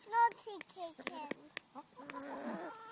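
A pet chicken that pecks at a child's hand gives short, sharp clucks in quick bursts, mixed with brief child-like vocal sounds nearby in a home setting.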